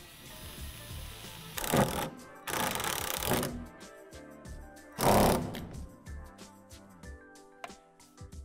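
Power drill driving a screw through a round metal tube of a Lifetime utility shed, in three loud bursts of whirring and grinding separated by short pauses, then a few quieter scattered clicks and knocks.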